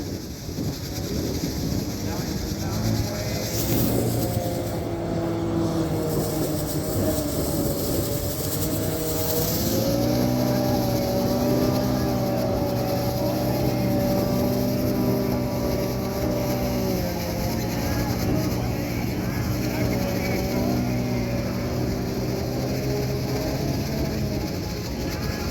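An ATASD amphibious air cushion vehicle runs at an air show with a loud, continuous droning engine and propeller hum, its tones sliding up and down, with wind noise throughout.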